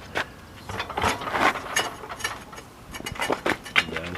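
A Cub Cadet mower deck, freshly repaired and painted, is dragged up and then released, giving a close run of ratcheting clicks, scrapes and metallic clunks of the lift mechanism at moderate volume.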